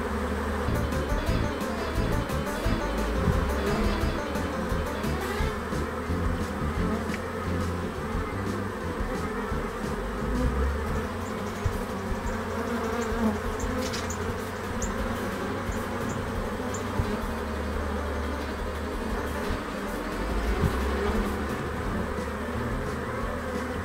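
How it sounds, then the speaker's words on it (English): A swarm of honey bees shaken into a hive box drones in a dense, continuous buzz close by, rising and falling slightly with no talking over it. "What a noise. Are the bees happy?"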